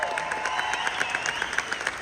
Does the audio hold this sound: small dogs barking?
no